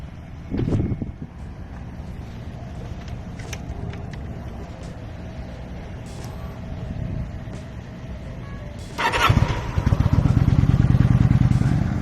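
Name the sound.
motorcycle riding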